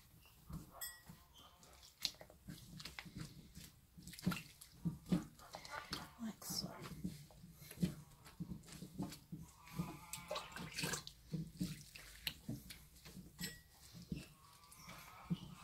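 Hot soapy water splashes and sloshes in a basin while a wool hat is felted by hand, quiet, irregular wet swishes and drips running throughout with someone talking.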